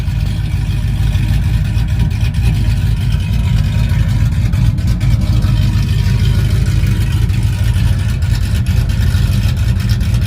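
Cammed Ram truck running all motor on 93 octane at full weight, pulling hard on the highway; a loud, steady engine roar with droning low rumble fills the whole stretch, heard from inside the cab.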